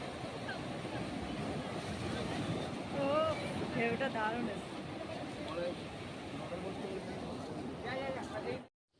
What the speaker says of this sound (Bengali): কি সুন্দর ঢেউগুলো আসছে পরপর ঢেউগুলো দেখতে খুব সুন্দর লাগছে